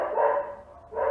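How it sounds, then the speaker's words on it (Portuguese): A dog barks twice nearby, two short, clear woofs separated by a brief pause, indoors with no other sound. "Desculpe pelos latidos"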